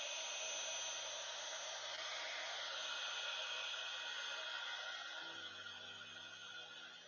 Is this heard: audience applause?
no